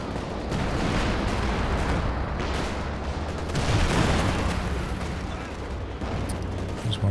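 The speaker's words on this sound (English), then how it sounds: "Concentration barrage dropped on that Raketen." Artillery barrage in Company of Heroes 2, a concentration barrage falling on a Raketen anti-tank gun position, with a dense continuous roll of overlapping booms and crackling blasts sustained throughout, loud and thick, with only faint voice beneath.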